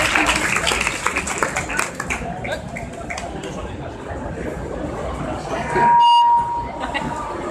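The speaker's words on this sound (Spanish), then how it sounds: "Volvemos a repetir otro aplauso." Audience applause at a fan meeting with a Star Wars illustrator, a dense steady patter of many hands clapping at moderate distance, with a brief tonal beep near the end and some background murmur.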